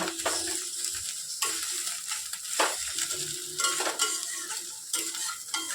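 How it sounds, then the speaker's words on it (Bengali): Hilsa fish head paste frying in a pan with black cumin and garlic, a continuous sizzle broken by repeated scraping strokes of a spatula stirring, close and fairly quiet. "একটু ভালো করে ভাজা ভাজা করে নিতে হবে"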